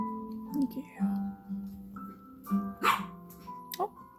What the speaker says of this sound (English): Who's that barking